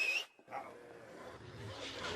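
Several enormous dogs in a radio drama production of Animal Farm dash after a fleeing pig, giving a brief burst of barking and yelping that quickly fades into a busy, rumbling background.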